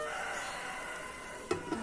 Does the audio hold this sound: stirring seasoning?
no